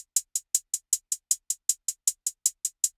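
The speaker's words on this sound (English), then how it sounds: "All we got is 16th hat," Steady sixteenth-note hi-hats in a beat, crisp short ticks repeating evenly about every fifth of a second, close and isolated with nothing else underneath.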